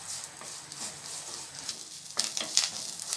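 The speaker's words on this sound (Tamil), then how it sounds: "கருவேப்பிலை அப்படியே நல்லா வதங்கி வரட்டும்." Curry leaves sautéing in oil in a pan give a faint, soft sizzle with light stirring scrapes, growing slightly brighter toward the end.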